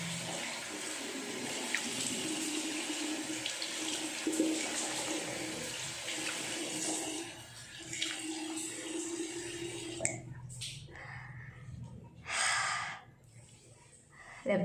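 Someone washes their face with water at a sink after using a cleansing gel. Running water splashes and rushes steadily at moderate volume, then gives way to shorter, separate splashes and pauses near the end.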